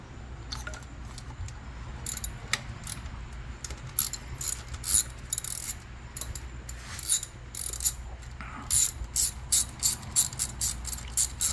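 A hand ratchet loosening 10mm bolts on a 2005-2012 Toyota Avalon engine during valve cover gasket work, giving rapid clicking bursts in short runs that come closer together and louder toward the end, with no talking.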